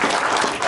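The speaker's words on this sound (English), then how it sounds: "Let's give them a round of applause, my fraternity." Audience applause for a fraternity at a ceremony, a dense, steady wash of many clapping hands filling a brief moment at even loudness.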